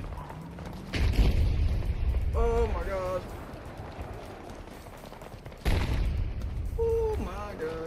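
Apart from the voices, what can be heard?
explosions in the video game Battlefield 2042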